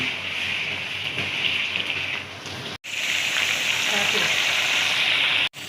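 Ginger and garlic sizzle in hot oil over browned onions for biryani, giving a loud, steady frying hiss that runs throughout with two brief cuts.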